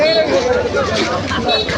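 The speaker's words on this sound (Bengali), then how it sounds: "শুধু ভিড় গোটা রাস্তাটা জুড়ে ভিড়" A packed market street in Buniadpur hums with a steady crowd of shoppers, many voices blending into a continuous close babble, with faint vehicle noise underneath.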